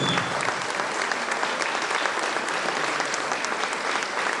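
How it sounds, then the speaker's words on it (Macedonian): Audience applause at an annual folk ensemble concert for young performers, a dense, steady wash of many hands clapping throughout without pause. "Еден голем аплауз за овие млади уметничи."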